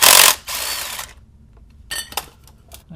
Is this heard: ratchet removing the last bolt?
yes